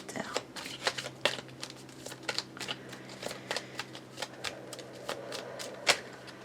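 A deck of tarot cards is shuffled by hand close up, making a quick run of crisp riffles, snaps and soft taps at an uneven rhythm. The sound is fairly quiet and there is no talking.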